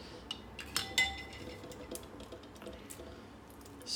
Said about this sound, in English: I'm going to crack it and remove the shell